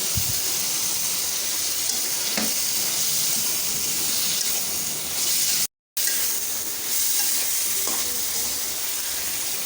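Vegetables, potato and teasel gourd among them, frying in spice masala for a mixed-vegetable dried-fish curry, giving a loud, continuous dense sizzle with faint stirring knocks and one brief silent gap.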